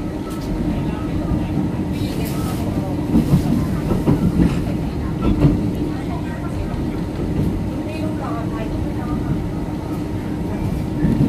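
A Bangkok–Chiang Mai special express sleeper train heading toward Don Mueang station rumbles steadily along the rails, with a continuous low roar and faint rhythmic clatter, heard from inside the carriage.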